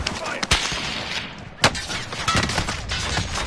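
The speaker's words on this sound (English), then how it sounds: "Being sniped from up the hill." Sniper gunfire cracks down from up a hill in a video game, with a few sharp shots and impacts amid busy game noise and players talking.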